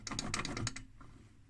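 A worn gear driving the tuning capacitor on a 1960 Nems Clarke 1301A receiver turns with a rapid, scratchy clicking that stops after under a second, then faint mechanical residue, close and quiet.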